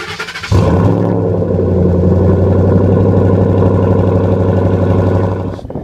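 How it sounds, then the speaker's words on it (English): A 2012 Ford F-150 pickup engine, started by remote, cranks and fires up after a brief moment, then settles into a loud, steady idle before cutting off at the end. "We're going to hit the lock once and hit the remote start twice"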